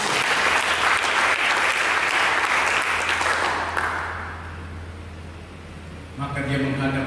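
An audience claps together during a church sermon, with loud, dense applause that fades out after about four seconds before music comes in near the end.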